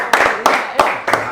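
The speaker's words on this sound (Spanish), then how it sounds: "Y un aplauso para la producción de la ICA." Four sharp, evenly spaced hand claps, close and loud, each with a short ringing tail, like a few people clapping in a small room on a Paraguayan variety show.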